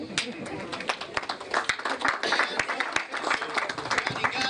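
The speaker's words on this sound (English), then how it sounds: "Another round of applause for the panelists." An audience applauds the panelists with steady, dense clapping that is moderately loud and continuous throughout, and voices are mixed in beneath it.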